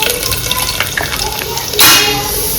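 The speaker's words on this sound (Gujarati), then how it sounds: "તેલ મૂકી દીધું છે, આપણે લાવી ગયું છે, આપણે એમાં નાખી દીધું છે લસણ," Garlic hits hot oil while tempering a cluster bean and potato curry, giving a sudden loud, close hiss that swells after a stretch of quieter pan clatter and background noise.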